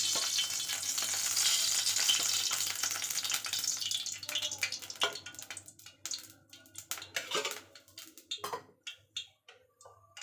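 Oil with half a teaspoon of cumin seeds frying in a pan, starting as a dense loud sizzle that thins into scattered crackles and pops as it settles.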